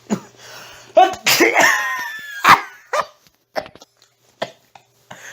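Several short, harsh bursts of coughing in a row, loud and close, with sharp breathy gaps between them.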